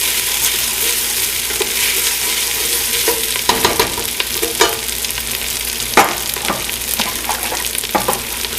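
Garlic sizzles in oil in a soup pot while being stirred, a continuous loud frying hiss broken by sharp scraping clicks of the utensil against the pot.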